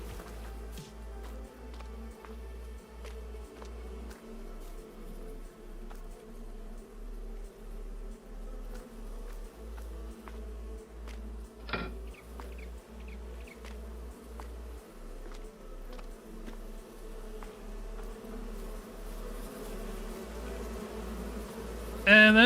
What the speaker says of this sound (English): Let's finish it out by taking care of our bees again.